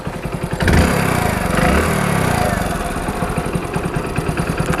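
A Hero Splendor BS6 motorcycle engine runs close by with a loud, steady pulsing idle and a light rattling chatter, the throb swelling briefly before settling back.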